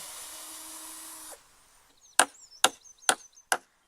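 After a power tool's whine cuts off, four sharp, evenly spaced hammer blows drive nails into a board outdoors, each a loud, close knock.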